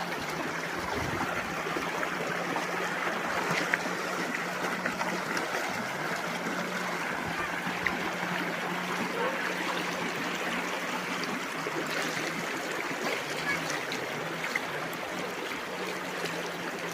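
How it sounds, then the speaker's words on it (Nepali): Water of a small stream rushes and trickles steadily while someone wades across it barefoot, a continuous close, broadband flow that stays even throughout with no talk. "ल यो खोला कसरी तर्ने हो"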